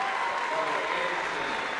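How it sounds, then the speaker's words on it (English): Steady crowd applause and a standing ovation for the seniors at a high school basketball quarterfinal, a dense continuous patter heard from within the gym. "Rebels seniors getting a nice round of applause and a standing ovation"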